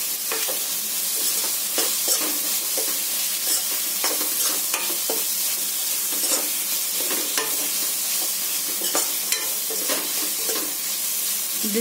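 Elephant foot yam (suran) stirred and frying in a pan, with a steady close sizzle and repeated scraping strokes of a spoon through the pieces, no talking.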